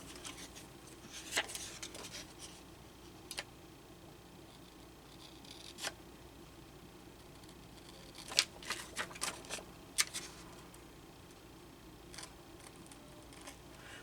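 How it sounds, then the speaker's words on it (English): Scissors cutting out paper stickers, with scattered quiet snips and crisp clicks at irregular intervals, including a few close together, over a faint background with no talking. "Now, let's cut these out."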